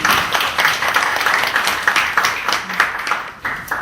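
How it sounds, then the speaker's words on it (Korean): A civic forum audience claps, a dense and steady patter of hands from a room full of people lasting several seconds. "힘내시라고 박수 한번."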